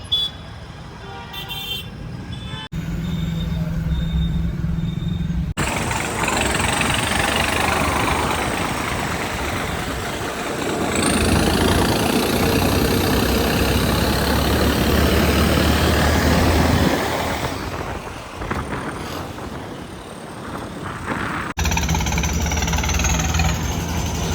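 A Swaraj tractor engine chugs steadily as the machine pulls away, a loud, rough diesel drone that swells and fades over the stretch with brief gaps and a faint high tone near the end.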